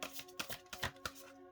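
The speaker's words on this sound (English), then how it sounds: "Shuffling for the other cards that came through." A deck of tarot cards is shuffled by hand at close range, giving quiet, quick riffling flutters in a short uneven run with no speech.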